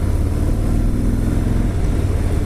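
A 2018 Harley-Davidson Fat Bob's 107 cubic inch engine pulls under acceleration, producing a loud, sustained deep rumble with a dense low-end throb and steady wind-like roar, no voices over it.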